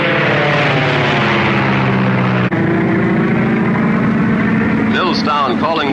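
A propeller airplane's engines drone loudly and steadily up close as the night plane prepares to leave, the pitch shifting slightly partway through, with a voice speaking briefly near the end.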